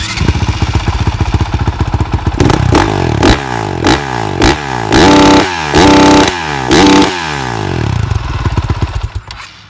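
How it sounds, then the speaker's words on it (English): A loud 2019 CRF 450R dirt bike with twin exhaust pipes revving hard in repeated bursts, deep throaty exhaust blats rising and falling close by, ending with a brief idle. "Exhaust sound. This is the benefit of 2 exhaust pipes."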